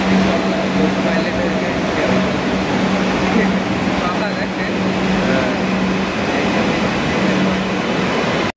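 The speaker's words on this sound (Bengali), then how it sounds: "বলতে বলতে আমাদের ট্রেন ঢুকে গেছে" A metro train pulls into the station with a steady, loud rumbling roar and a low hum that holds throughout, with voices faintly mixed in.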